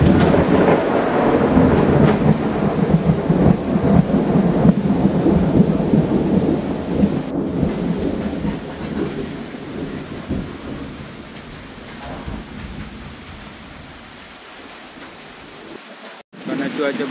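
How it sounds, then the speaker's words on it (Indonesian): Heavy tropical downpour in the Sungai Wain jungle of Borneo roars loud and dense, with deep thunder rumbling beneath it. The rain gradually eases and grows fainter toward the end, broken by a few abrupt knocks. "Karena cuaca berubah, hujan deras, kita istirahat dulu di rumah ini."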